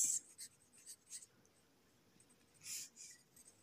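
A teacher handwriting an answer, pen or chalk strokes coming in short quiet scratchy bursts with pauses between, close and faint, no voices over it.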